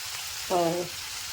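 Vegetables sauté in a pan with a steady, soft sizzling hiss, briefly overlaid by a short, tonal squeak near the middle.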